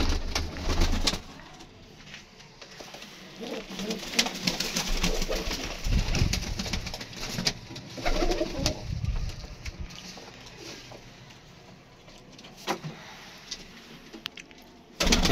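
Blue pigeons coo in low, soft, repeated calls close by, with wing flutters and scattered clatter in between. The calls come and go across the whole stretch with no talk.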